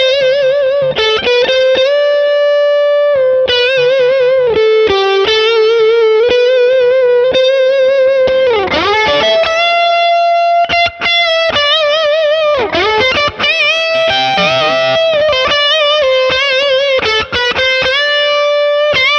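A Les Paul on its neck pickup played through a Mesa Lonestar Special amp's drive channel in 5-watt mode with a little reverb, a loud, continuous overdriven lead line with sustained bent notes and no talking.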